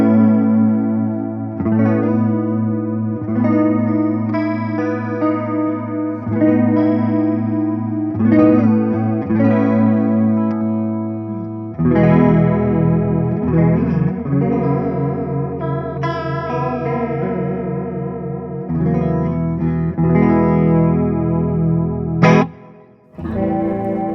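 An electric guitar played through Tone City chorus and Corrosion distortion pedals rings out alone with sustained, shimmering, overdriven chords and lead notes, thick with modulation and echo, loud and continuous throughout.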